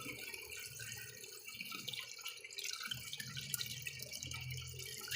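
Water trickling and dripping through a homemade sand filter in a tank, cleaning murky canal water: a soft, steady patter of small drips and trickles, close and fairly quiet, with no talking.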